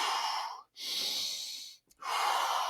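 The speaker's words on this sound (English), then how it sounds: "breathing in through your nose, down to your belly, down to the bottom lobes" A person draws three deep, forceful breaths in through the nose and down to the belly, each a loud, close, rushing sniff with short silent pauses between them.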